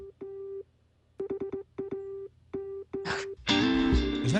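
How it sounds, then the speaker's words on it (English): Morse code beeps spelling "ham" in an electronic theme song, a run of short and long steady tones in uneven groups, then a burst of fuller synthesized music near the end. "you'll hear some Morse code in it. And that Morse code is the dot dash that spells ham"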